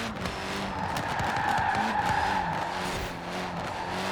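A racing car in Forza Horizon 4 tears off-road across Fortune Island, engine roaring steadily with tyres skidding and squealing throughout, loud and close, no voices.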